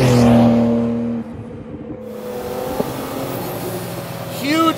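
A 750 hp turbocharged air-cooled Porsche engine surges and accelerates with a rising whine and rush, then settles into a steady drone; a brief higher whistle-like rise near the end.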